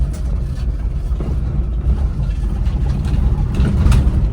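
A steady, close engine rumble with road and wind noise from a Nissan Pao car driving along, even and continuous with no talk.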